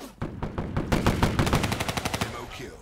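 Submachine gun fire in the Call of Duty Black Ops 3 beta, a rapid close burst of evenly spaced shots lasting about two seconds after a couple of single reports.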